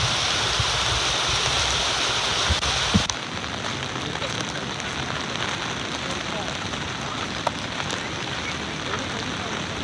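Heavy monsoon rain pours near Palasdari dam and its waterfall as a steady, loud broadband roar of falling and rushing water, with a brief thump near the start and no clear talk.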